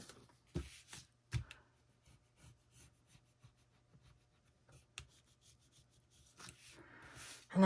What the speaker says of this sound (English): I am using a bone folder to burnish this down real good for good adhesion to the chipboard